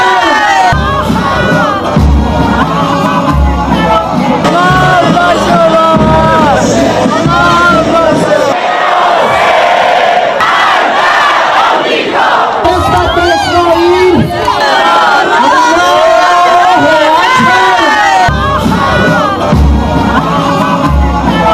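A large crowd gathered in Iran to mourn commanders killed in an Israeli strike, producing a loud, continuous roar of massed voices with rising cheers and shouted chants throughout.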